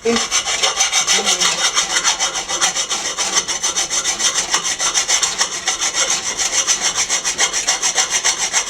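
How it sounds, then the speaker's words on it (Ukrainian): A half-round hand file rasps steadily across a steel 89 mm exhaust pipe for a GAZ 24 V8, with rapid, even back-and-forth strokes that stay loud and close throughout. "Напільничок. Полукруглий."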